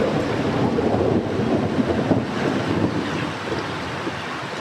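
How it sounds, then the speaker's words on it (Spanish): Heavy rain mixed with thunder makes a steady, loud wash of broadband noise with deep rumbling underneath, continuous for several seconds with no voices. "Grandes gotas caían y golpeaban y hacían ruido junto con los truenos"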